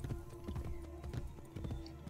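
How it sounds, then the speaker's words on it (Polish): Horse hooves clip-clopping in the Assassin's Creed Brotherhood video game, a quick irregular run of hoof thuds with a faint tonal drone behind. "No stój, wierzchowcu!"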